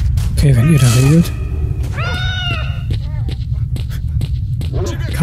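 Mutant cats meowing and yowling at night in S.T.A.L.K.E.R.: Shadow of Chernobyl, with a loud, wavering cry up front followed by fainter calls amid game noise and someone talking.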